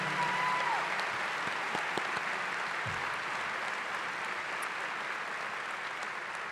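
High school graduation audience applauds faculty and staff with steady, fairly distant clapping that fills the hall continuously and only gradually eases.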